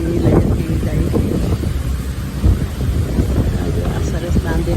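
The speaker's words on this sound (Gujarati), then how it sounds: "પાણીની જોશ અહીંયા જરા વધારે છે" A cruise boat pushes through choppy water among the 1000 Islands in Canada, with constant wind buffeting the microphone and a rough wash of water beneath, a voice speaking over it.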